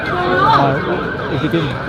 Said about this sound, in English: What's up with all the cops and sirens?